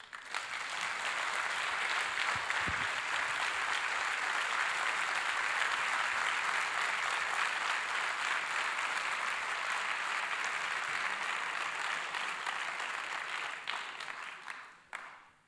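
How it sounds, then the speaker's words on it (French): Sustained, dense applause from a ceremony audience for an orchestra, loud and steady for about fourteen seconds before tapering off at the end. "Alors je vous demande un torrent d'applaudissements."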